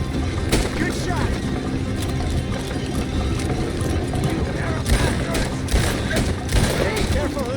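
Gunfire erupts in sporadic bursts during a Red Dead Redemption 2 shootout, mixed with dense game noise and voices talking throughout.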